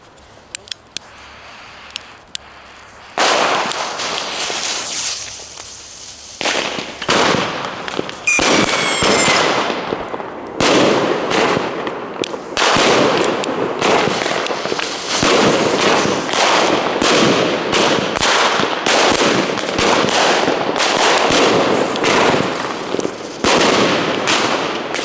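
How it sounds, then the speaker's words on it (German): Lesli A-Böller firecrackers bursting outdoors in dense, loud volleys of sharp bangs, a continuous rapid crackle with one whistling shot, keeping up almost without pause after a quieter start. "jetzt gibt's die A-Böller von Leslie."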